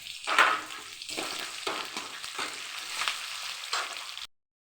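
Fenugreek seeds sizzle and crackle steadily in hot oil for a tamarind-based avarakkai (broad bean) kara kulambu, a close, continuous frying hiss with light stirring scrapes and a brief louder burst at the start, then silence.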